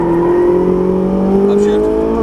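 A Ferrari 458 Italia on a track, its engine note climbing steadily in pitch as it accelerates, loud and sustained throughout.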